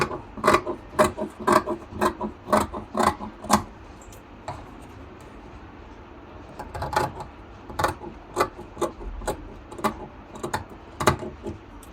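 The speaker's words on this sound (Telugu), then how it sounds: "ఇప్పుడు ఈ మార్కింగ్ ప్రకారం కట్ చేసుకుందాము." Scissors snip through blouse fabric along a marked line, a series of sharp crisp clicks in quick irregular runs, close and distinct over a quiet room.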